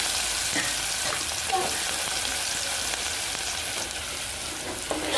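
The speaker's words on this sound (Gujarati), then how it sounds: "હવે આપણે ડુંગળીનો વઘાર કરી નાખશું" Onion drops into hot oil already seasoned with mustard seeds, cumin and asafoetida for a Gujarati tempering, giving a steady close hiss and crackle with light stirring scrapes and no talking.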